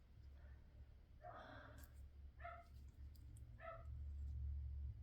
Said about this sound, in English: The dogs are barking like crazy.